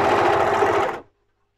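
An overlocker serges a seam on jacquard fabric in a loud, close, rapid whir that runs for about a second and then stops dead.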